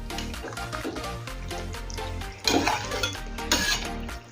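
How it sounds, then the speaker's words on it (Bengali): Chicken korma is stirred and mixed in a pan, with a spoon scraping and clinking against metal over soft sizzling; a louder burst of scraping comes near the end. "সব কিছু ভালো করে নেড়ে চেড়ে মিশিয়ে নেব"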